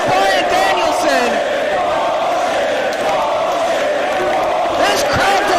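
Wrestling crowd at a 2006 ROH title match boos and shouts in displeasure after the bout is stopped, a loud, sustained arena roar with scattered jeers and whistles, a commentator talking over it.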